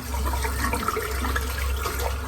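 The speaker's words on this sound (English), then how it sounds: "Right, let's just rinse out the razor." Tap water runs steadily while a shaving razor is rinsed under it, a close, continuous splashing rush for the whole stretch.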